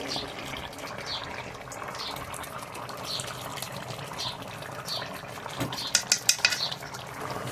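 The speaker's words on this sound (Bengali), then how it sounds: "এখন ঘি দিয়ে একটু নাড়িয়ে দিচ্ছি" Ghee is stirred through a Bengali egg, potato and pointed gourd korma in a pan, a continuous soft bubbling hiss with a quick burst of metallic spoon clinks against the pan near the end.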